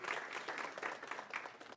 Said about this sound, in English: everybody give Corey a round of applause.